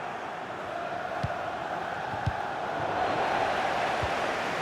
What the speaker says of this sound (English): The crowd encouraging him to take it on.